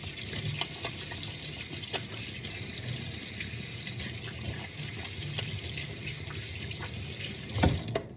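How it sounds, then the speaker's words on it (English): Kitchen tap running steadily while hands are washed in a sink during soup preparation, a constant faint hiss of flowing water with small splashes and a bump near the end, no talk. "so wash my hands again."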